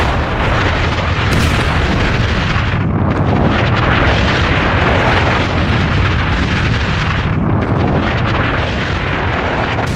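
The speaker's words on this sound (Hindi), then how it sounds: "ये सारी मिसाइलें जाकर इजराइल में गिर रही हैं" Iranian missiles striking Israel, heard as a continuous, loud roaring wash of blasts and rumble with no clear gaps and no talk.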